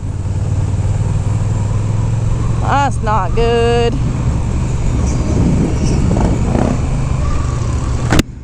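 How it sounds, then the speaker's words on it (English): A small motorcycle engine hums steadily while riding along a beach, with wind rumble underneath and a brief burst of speech partway through. "I'm just so happy that I'm on a tiny motorcycle."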